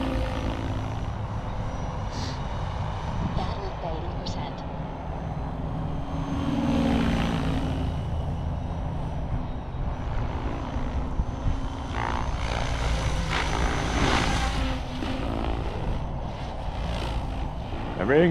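An RC helicopter hovers hands-off after a crash repair, its rotor and motor giving a steady, continuous drone at moderate distance, with a voice talking over it at times.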